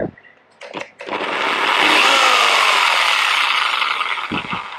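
After a few short knocks, a Stanley jigsaw at speed five revs up cutting wood into a loud, harsh, continuous buzzing whine that holds steady, with a clunk near the end.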